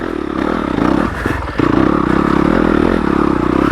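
A stock Yamaha YZ250FX dirt bike ridden in second gear through a hard section, the engine loud and close with a steady pulsing drone, a brief dip and rough clatter midway before it picks back up.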